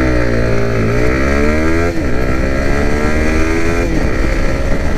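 A 2022 Yamaha MT-15 v2 street motorcycle accelerating hard, its engine note climbing steadily through several quick gear shifts, loud and close throughout with no talking.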